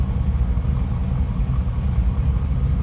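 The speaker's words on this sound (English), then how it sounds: "Slip around to the back so you can hear this run. It's got a great sound to it." A 1954 Chevrolet Sedan Delivery street rod idles from behind the car, its exhaust a loud, steady, deep rumble with a slight lope, running alone without voices.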